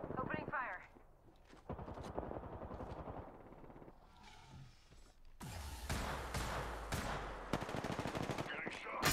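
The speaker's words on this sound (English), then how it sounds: "Opening fire." Gunfire in the video game Apex Legends: rapid automatic bursts rattle out in the later half, with scattered shots earlier and a person talking over the game sounds.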